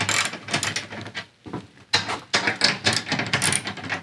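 Ratcheting and clanking of tools loosening bolts on a Ford Transit van, quick rhythmic clicks and metallic rattles in close bursts, with a short pause midway.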